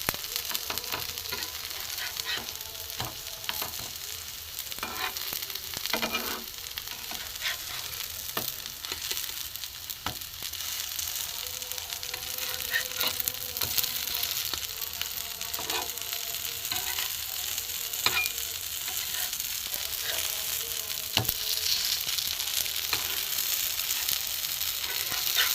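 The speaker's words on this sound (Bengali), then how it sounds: "লাল লাল করে অল্প তেলে ভাজা হয়ে গেছে" Stale roti pieces fry in a little oil in a pan, with a loud, dense, continuous crackling sizzle and frequent sharp pops and stirring scrapes throughout.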